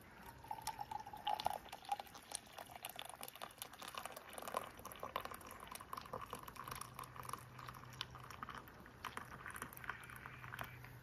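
Freshly ground coffee pours from a small press outdoors in the mountains and spills over, making a faint, steady trickle with scattered soft drips and patters.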